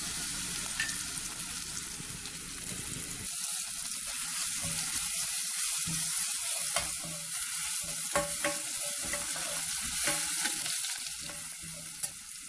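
Whole red chillies and grated garlic sautéing in a pan for a moong dal dish, a continuous close sizzle and crackle with occasional stirring scrapes and clinks, no talking.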